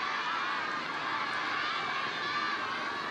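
Spectators at a race walking championship in Taicang keep up a steady, dense roar of cheering and chatter that carries through the whole stretch, with no single voice standing out.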